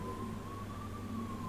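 Hungarian ambulance siren wailing outside, a faint steady tone that drifts slowly in pitch, heard from a distance over low background rumble with no talk.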